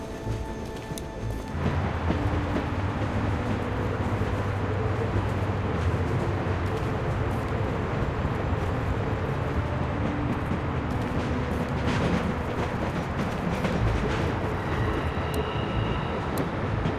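A train in The Walking Dead Season 1 video game rumbles loudly and continuously as it is brought to a stop, with a dense, steady roar and faint metallic tones throughout and no voices.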